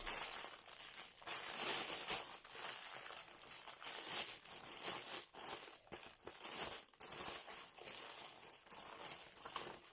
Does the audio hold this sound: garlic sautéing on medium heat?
no